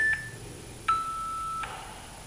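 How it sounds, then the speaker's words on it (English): Three electronic beeps sound in sequence, each a clear tone at a slightly different pitch, the middle one held longest. "ignore the beeps."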